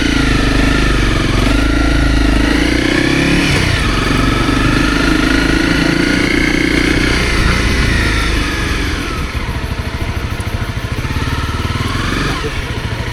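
Motorcycle engine runs loud and close while riding from Kathmandu toward Pokhara on the way to Upper Mustang, the pitch rising and dropping as the rider shifts through the gears with wind rush behind it.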